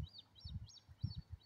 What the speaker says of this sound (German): Hört mal die Vögel.